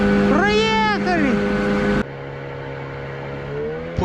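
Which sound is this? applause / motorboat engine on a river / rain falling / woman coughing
motorboat engine on a river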